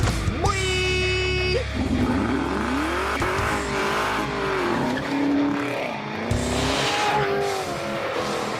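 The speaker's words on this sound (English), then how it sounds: "he's driving his dad's Camaro ZL1, which is an extremely powerful car, and even controls the car when its tires spin" A powerful Chevrolet Camaro ZL1 revs hard with tires spinning and squealing, a loud close engine roar rising and falling with skidding screeches.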